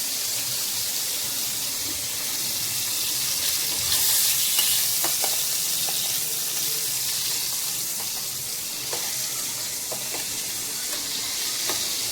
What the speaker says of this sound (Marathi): आपण यामध्ये एक एक मासा घालून घेऊया थोडासा फ्राय करायचा आहे